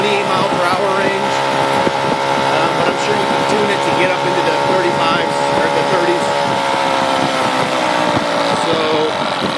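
A 1996 Kinetic TFR moped engine drones steadily while riding, a buzzing harmonic whine with slight pitch shifts, running continuously beneath someone talking over it.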